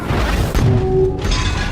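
A deep, rumbling explosion effect from a diesel leak in the engine section of a submarine sustains loud and dense for nearly two seconds, with no talk over it.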